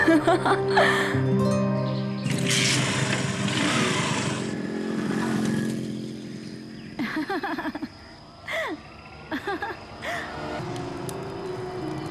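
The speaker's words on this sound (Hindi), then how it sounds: "बस बाइक चलाओ" A motorcycle engine runs loudly and steadily with a buzzing drone and shifts in pitch, heard alongside dramatic music and intermittent noises in a horror TV serial scene.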